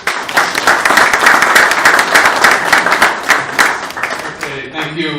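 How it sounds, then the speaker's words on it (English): Sharp, close hand claps from an audience at an academic lecture on state building in emerging democracies, brisk and dense for several seconds, then thinning out as a voice starts speaking near the end. "Ladies and gentlemen, with a round of applause."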